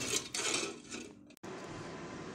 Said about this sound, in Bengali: এবার আমি এটা খুব ভালোভাবে নেড়েচেড়ে নিচ্ছি, খুব ভালোভাবে যাতে